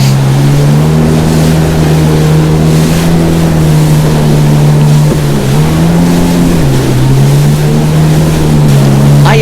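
A Yamaha WaveRunner runs loud and close over harbor swells of a foot or two. Its steady engine drone wavers slightly in pitch over continuous rushing water and wind.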